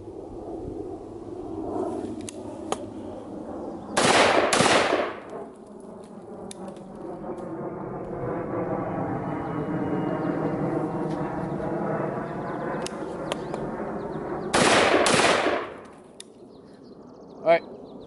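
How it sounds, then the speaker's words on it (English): Two loud, sharp gunshots from a 10-inch MR920 or Omni 556 pistol at an outdoor range, roughly ten seconds apart, with a steady whine between them and someone talking. "Now we'll do two shots."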